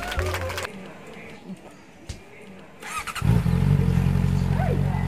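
A motorcycle engine cranks and fires up partway through, then settles into a loud, steady idle with blips of revving close by; voices talk before it starts.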